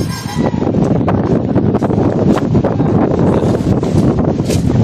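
Strong typhoon wind on an island, a loud, continuous roar with gusts buffeting the microphone, close and harsh throughout.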